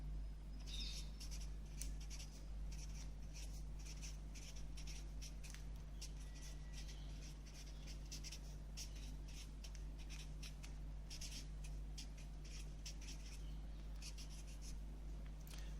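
A pen scratches quickly and steadily while a physics problem about a boat crossing a river is written out. The strokes come in faint, rapid bursts over a constant low electrical hum.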